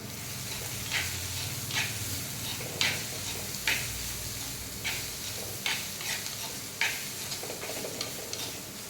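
A spiced curry mixture with homemade chilli powder is stirred in a pan, a soft background sizzle broken by a regular series of close scraping strokes of the spoon, about one each second, with no talking.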